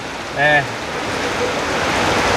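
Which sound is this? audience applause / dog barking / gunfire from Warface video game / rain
rain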